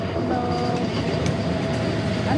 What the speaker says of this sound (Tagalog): may train.